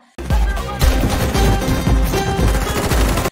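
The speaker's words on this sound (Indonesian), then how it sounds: "Tiger sangat lincah dan dapat menghindari tembakan mematikan dari musuhnya" Machine gun fire in an action film sounds as dense, continuous bursts of gunfire with a heavy low boom, loud and close, running almost unbroken after a brief silent start.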